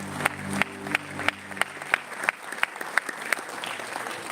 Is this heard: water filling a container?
no